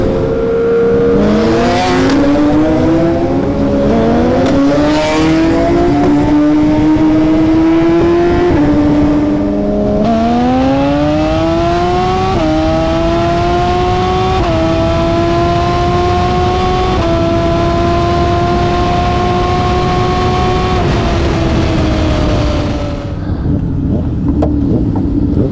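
Several Suzuki Hayabusa motorcycles built with 1600cc engines race hard, their loud engine notes climbing through repeated gear-change rises and falls over about twenty seconds before easing off near the end, with wind buffeting throughout.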